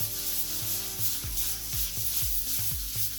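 Scratches sanded out of a composite stone surface in circular motions: close, rhythmic abrasive rubbing with repeated swishing strokes of about three per second, alone with no voices.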